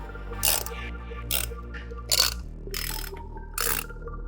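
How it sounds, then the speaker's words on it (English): Bolts on a squat and bench press combo rack are tightened with a 17mm wrench: five distinct metallic clicking bursts at irregular intervals, close and fairly clear over a low steady hum. "Then you're gonna take your 17mm wrench and tighten them all down."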